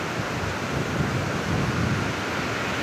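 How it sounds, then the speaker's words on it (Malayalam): Strong wind and fast-flowing water on a hilltop at Vagamon, a dense, continuous roar of gusting wind buffeting the microphone that masks the rushing water, with no voices. "അത്യാവശ്യം നല്ല ഒഴുക്കുണ്ട്, നല്ല കാറ്റുമുണ്ട്."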